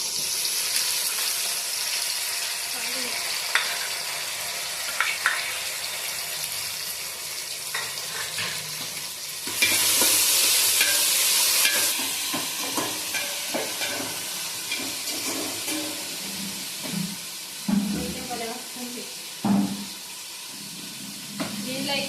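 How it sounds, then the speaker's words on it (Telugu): Ginger garlic paste sizzles and hisses in a hot pan as it is stirred, with scraping clatters of the spoon, a loud burst of frying midway and someone speaking at times over it. "అల్లం వెల్లుల్లి పేస్ట్ కూడా వేసేసుకుంటున్నాను"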